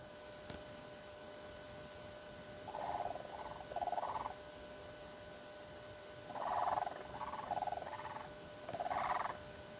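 Distant, rattling croaks of a pair of blue cranes call in a few short clustered phrases, faint against a quiet, steady outdoor background in the Karoo, Eastern Cape.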